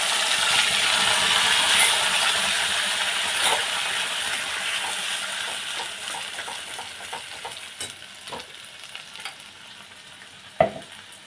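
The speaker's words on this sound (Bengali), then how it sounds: "তারপর আস্তে আস্তে এই যে ঝিঙে বাটাটাকে এর মধ্যে দিয়ে দিতে হবে।" Ridge gourd peel paste sizzles in a hot pan with dried red chilli and nigella seeds, the frying hiss fading gradually as a spatula scrapes and stirs, ending with a sharp utensil clink.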